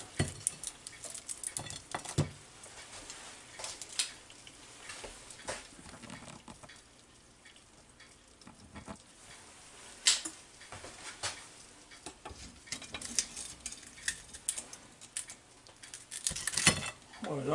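Air-fried chicken leg quarters lifted out of a Ninja Air Fryer Max XL pan: scattered metallic clinks and scrapes, close and moderately loud, separated by quiet gaps.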